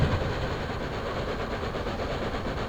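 A locomotive in Microsoft Train Simulator braking on the engine alone, giving a steady, loud rumble and rolling rail noise with faint rhythmic clatter and no voices.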